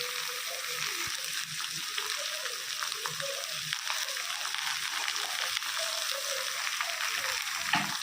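Ridge gourd sizzles steadily in a hot pan while a utensil stirs and scrapes intermittently, close and moderately loud.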